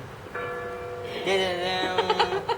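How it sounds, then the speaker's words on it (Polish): Church bells ring out at sunset with sustained, layered metallic tones that swell and pulse, fairly close and loud, with no talking. "jeszcze dzwony dzwonią"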